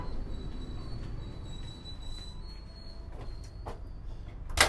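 Kutojaya Selatan passenger train pulling into Kutoarjo station, a steady low rumble of railcars rolling slowly with faint wheel squeal and a sharp brief burst near the end.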